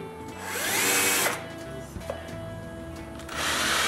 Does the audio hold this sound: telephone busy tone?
no